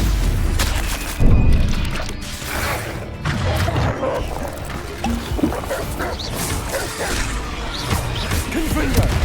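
A Stupefy stunning spell is cast during a Hogwarts Legacy duel, a dull thumping impact and whoosh amid a dense clatter of combat effects, with a voice talking over the action.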